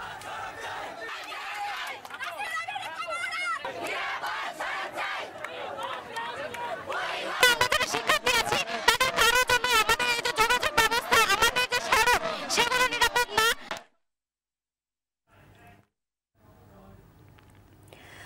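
School and college students blocking the Dhaka–Mymensingh and Dhaka–Tangail roads at Chandna Chourasta in Gazipur protest for safe roads, a crowd of voices chanting in rhythmic bursts, loud and close, before cutting off into near silence.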